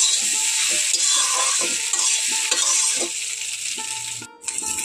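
Egg and flatbread pieces frying together in a pan give a steady, fairly loud broadband sizzle throughout, with scattered ticks and scrapes of stirring; no one talks.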